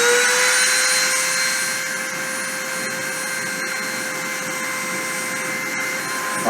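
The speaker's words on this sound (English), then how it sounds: "So I'm going to start the spindle and start the deposition." Spindle motor running steadily during a deposition process, a constant close whine with a strong sustained tone and broadband hum, even in level from start to end with no talk.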